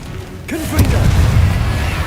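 A Confringo spell explosion in Hogwarts Legacy, a single burst that blooms into a loud rumbling blast with crackling debris, preceded by a short swooping whoosh.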